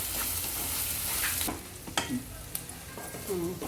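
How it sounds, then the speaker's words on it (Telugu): Onions sizzle in a hot pan while a utensil stirs them through with salt, scraping and clinking in irregular bursts over a steady frying hiss, close and fairly loud. "ఉప్పు వేస్తే తొందరగా ఉల్లిపాయలు వేగిపోతాయి"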